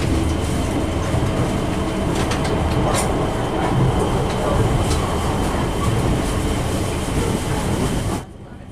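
Interior of the moving Sindang Marga passenger train, a loud, steady rumble of wheels on rails with faint clickety-clack, continuous until it drops away abruptly at the very end.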